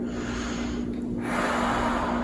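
Heavy breathing during a lacrosse ball roll-out, a single close, breathy exhale-and-inhale over a steady low background hum.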